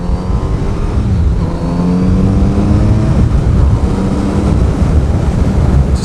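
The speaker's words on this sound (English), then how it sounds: "Just to go through the gears a little bit, give you a bit of that sound" A Kawasaki Z900RS motorcycle engine, 2020-2021 model, revs loud and close as it runs up through the gears, with a steady throaty drone that rises in pitch, rough with wind buffeting.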